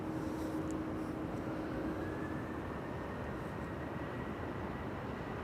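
A TUI airliner rolls along the ground at Amsterdam Schiphol Airport, its steady engine rumble and whine carrying from a middle distance and holding an even level throughout.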